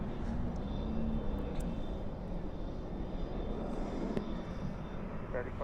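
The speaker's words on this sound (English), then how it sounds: "Reverse thrust is insane" An airliner's reverse thrust during night plane spotting at Dallas/Fort Worth International Airport: a steady, heavy broadband roar that holds at an even level throughout, with faint voices in the background.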